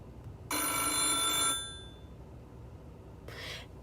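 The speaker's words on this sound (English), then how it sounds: "And then just the Classic Phone." A single bright, trilling ring of an old-style telephone bell ringtone in a 2020 Volvo XC90, lasting about a second, then a fainter short burst after a pause.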